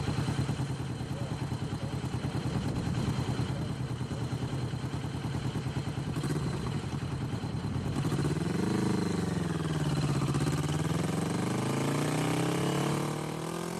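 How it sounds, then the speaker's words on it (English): A 2021 Kawasaki Vulcan S 650 motorcycle engine rumbles loudly and steadily up close, with a throaty exhaust note that rises and falls as the revs change. "God, I love that exhaust note."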